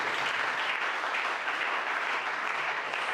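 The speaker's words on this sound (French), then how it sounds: "Nous acclamons très fort." Church congregation applauding loudly, a dense, continuous roar of clapping from many hands that holds steady without pause.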